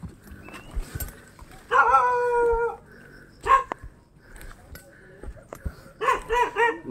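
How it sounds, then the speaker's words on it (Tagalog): A dog barks and howls a few times at moderate distance, in short separated bursts, with some faint background noise between. "May aso. Malaki yung aso ba?"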